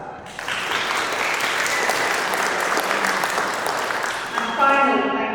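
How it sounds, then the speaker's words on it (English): An audience at a Star Academy lower school graduation applauds the teachers, a steady, dense wash of clapping, close and loud, with a voice starting up near the end. "perhaps you'd like to give your teachers a little round of applause as well"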